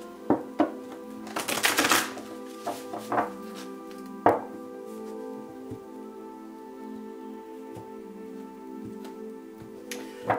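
Tarot cards are shuffled by hand, with a brisk burst of riffling followed by scattered soft taps and slaps of the deck over quiet, steady background music.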